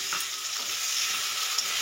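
Potatoes, chopped onion and green chillies fry in a pan, giving a bright, continuous close-up sizzle with light crackle and stirring, steady throughout, with no talk.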